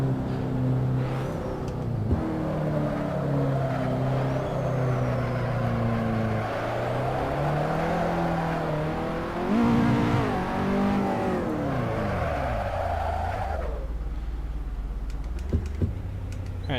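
A car engine drones and revs in a racing video game, pitch climbing and falling through gear changes before cutting off, with keyboard tapping clicks throughout.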